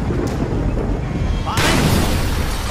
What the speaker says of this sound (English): Mason, let's see what this Semtex can do